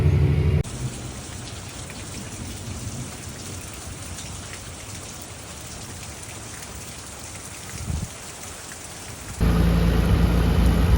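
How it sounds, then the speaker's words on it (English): A steady, dense roar of heavy rain pouring down on farmland, continuous throughout, with a brief thump midway and a shift in tone near the end. "we got quite the downpour"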